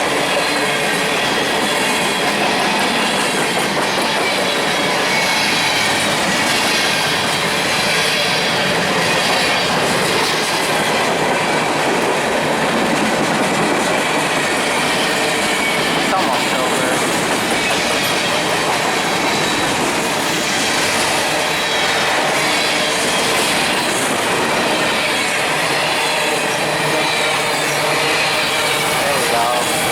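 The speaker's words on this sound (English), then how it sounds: "Bye, train." A train passes very close to the tracks with a loud, continuous rumble, rhythmic clickety-clack of wheels and squeals of metal, while a person says a few words under it.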